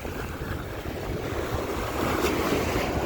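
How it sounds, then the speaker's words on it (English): Wind buffets the microphone beside waves washing in at Blackpool's Central Beach seafront, a steady rushing roar of surf with gusty low rumble, continuous and close throughout. "So yeah, we have got a bit of wind."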